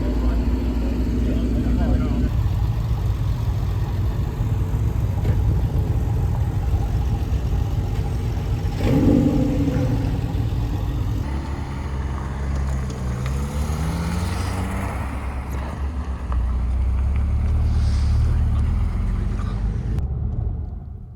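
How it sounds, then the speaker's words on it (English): Engines of Porsche sports cars rumble and idle in a group in the Cotswolds, a steady low drone that shifts as the cars move off, with someone talking over it. "the cars were started and we headed off"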